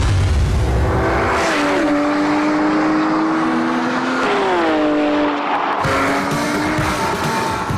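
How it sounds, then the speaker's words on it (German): Porsche 911 GT3 with a 435 PS high-revving naturally aspirated six-cylinder boxer and rear-wheel drive, drifting loudly with engine pitch rising and falling through the gears and tires squealing throughout. "435 PS, 6-Zylinder-Boxer-Hochdrehzahl-Saugmaschine, Heckantrieb"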